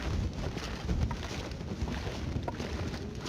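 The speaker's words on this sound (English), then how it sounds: "It sounds like it's still quite windy outside" Wind blows outside in The Long Dark, a rough, gusty rush that swells and eases unevenly, filling the scene with low rumbling buffeting.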